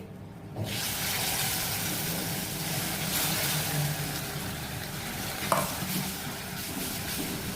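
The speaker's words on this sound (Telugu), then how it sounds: "ఇప్పుడు పచ్చడి అంతా ఇందులో కలిపేసేస్తాను" Ground raw tomato chutney stirred into a hot tempering with a pinch of asafoetida in a pan, a steady soft sizzle with scraping stirs and a brief clink, close and continuous.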